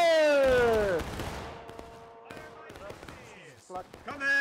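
Musket volley fire in the Civil War game War of Rights, with broadband gunfire crackle scattered through the clip under shouted commands from a voice that starts loud and then falls back.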